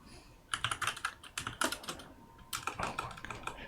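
Typing on a computer keyboard while coding a CSS push button, a quiet close run of clicky key taps in bursts with brief pauses.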